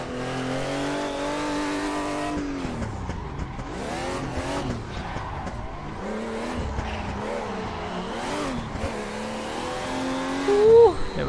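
Drift car engine revving hard with squealing tires in the racing game Assetto Corsa at a drift event in Japan, a continuous loud engine note rising and falling through shifts, with a sharp tire squeal near the end.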